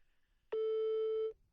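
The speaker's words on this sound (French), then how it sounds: "On appelle Inès tout de suite." A mobile phone call produces a single steady electronic ringback tone, clean and fairly loud, lasting just under a second over near silence.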